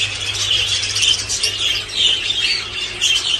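Parrots squawking at an outdoor bird market in Turkey, a loud continuous chorus of shrill, overlapping calls and squeals close by, with no pause.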